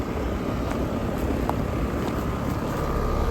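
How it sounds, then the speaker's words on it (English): An old 1994 1.5-ton HVAC condenser unit at an apartment runs with a steady, loud, broadband rushing hum and faint rattles. It is continuous and close, with no talking. "this thing sounds like it's gonna blow its compressor terminals any minute now"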